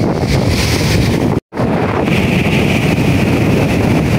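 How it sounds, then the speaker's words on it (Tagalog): Strong surf roars continuously during a typhoon, with heavy wind buffeting the microphone, a brief dropout partway through, no voices. "Grabe ang lakas pa rin po ng alon."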